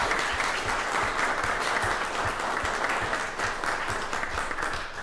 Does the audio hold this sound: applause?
yes